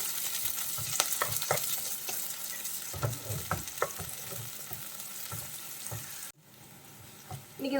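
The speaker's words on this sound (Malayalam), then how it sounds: "2 കളറ് ക്യാപ്സിക്കം, അതും കൂടി ഇട്ട് ഒന്ന് വഴറ്റി കൊടുക്കാം." Two colours of capsicum sautéed in a pan for vegetable noodles, a steady close sizzle with repeated stirring scrapes, briefly dropping out near the end before the frying resumes.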